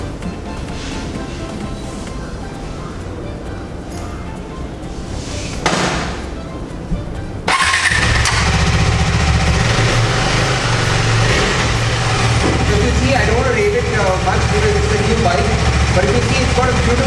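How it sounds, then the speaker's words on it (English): KTM 390 Adventure motorcycle engine idling, then a brief start-up blip around six seconds before the engine settles into a louder, steady exhaust drone with a low, throbbing rumble for the rest. "get the bike off the side stand and check the exhaust notes"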